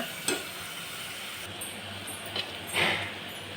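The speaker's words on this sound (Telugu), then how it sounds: "ఆనియన్ వేసుకున్నాను వేపుకున్నాం వేపుకున్నాక ఆనియన్ వేగాక" Onions frying in oil in a pan for a gongura mutton curry give a steady, low sizzling hiss, broken by a couple of brief clinks and a louder surge of sizzle near the end.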